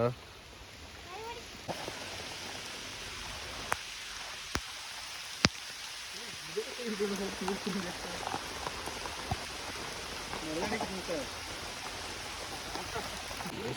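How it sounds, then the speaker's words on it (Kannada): Heavy rain pours steadily onto surfaces in a constant hiss with scattered louder drips and taps, captured nearby during a Ganesha Chaturthi puja outing, while people speak intermittently over it. "ಮಳೆ ಸರಿಯಾಗಿ ಹೊಡಿತೈತೆ"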